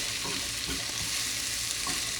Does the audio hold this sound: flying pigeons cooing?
no